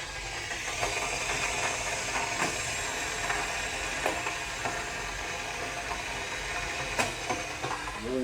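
A tea kettle heating on a stove gives off a steady hiss broken by scattered sharp pops and ticks, recorded close up with no talking.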